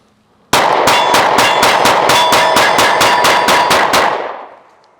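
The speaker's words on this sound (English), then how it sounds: "This is 15 rounds out of their Gen 2 S15 magazine." A PSA Micro Dagger pistol fires a rapid string of about fifteen rounds from a Gen 2 S15 magazine, loud sharp evenly spaced shots ringing out before a fading echo, no talk.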